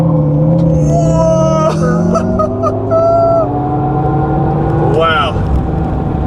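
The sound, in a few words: 2024 electric Hummer SUV accelerating at full throttle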